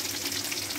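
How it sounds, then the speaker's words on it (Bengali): Fish curry gravy with mustard paste and parshe fish bubbles in a pan, a dense steady hiss and bubbling close by, with no speech. "ঝোল ফুটে গেছে,"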